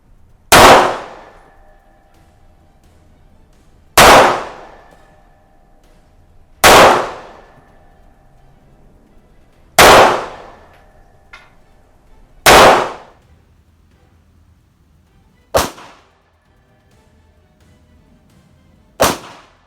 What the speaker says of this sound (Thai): มือทดสอบครับ CZ 75D Compact ผู้หญิงพร้อมนะครับ พร้อมแล้วเริ่มยิงครับ